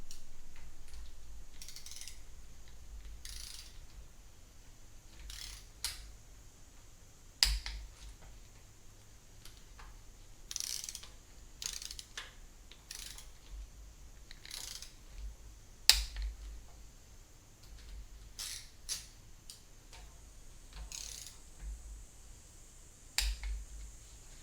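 A torque wrench clicks as it tightens studs on a Chevy 4.3 engine block during a 5.3 swap, the sharp ratchet snaps sounding close and irregular against a quiet garage, with no talking.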